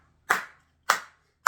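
Three sharp hand claps land at an even, unhurried pulse, about six tenths of a second apart, close and crisp in an otherwise quiet room, keeping a steady beat.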